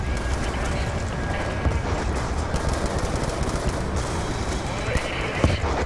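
Sustained machine gun fire roars through a Call of Duty Black Ops 2 campaign battle, a dense, continuous wall of shots and explosions with voices shouting over the chaotic din.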